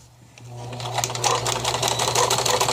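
Sewing machine running a wide zigzag stitch, a steady rapid mechanical clatter that starts quietly and builds to a loud, continuous rhythmic whir close to the listener.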